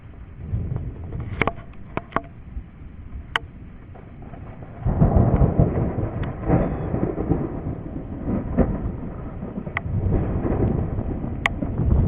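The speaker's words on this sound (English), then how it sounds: "Big old strike of lightning's gonna get your butt." Thunder from a lightning strike in a storm, a deep rumble that swells and stays loud for several seconds, with sharp clicks of rain hitting a waterproof camera and no talking.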